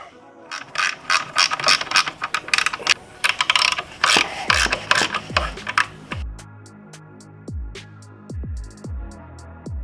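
A hand ratchet clicks in quick bursts while tightening the rear bolts of a skid plate on a Honda CRF300L motorcycle, with close mechanical clicking followed by sparser single ratcheting strokes.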